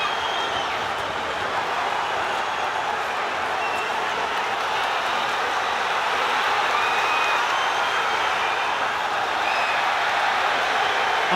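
A large arena crowd at a light heavyweight title fight roars continuously as punches land, a loud unbroken wall of cheering that swells slightly toward the end.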